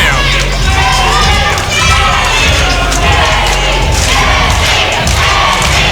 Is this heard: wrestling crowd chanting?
yes